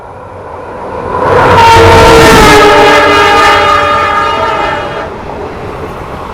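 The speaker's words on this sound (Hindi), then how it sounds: "हॉकिंग, क्या हॉकिंग लगी है कोंकण रेलवे में भाई।" A loud diesel locomotive horn on a Konkan Railway express train blares in a long sustained honk, rising over rumbling rail noise and then fading as the train passes.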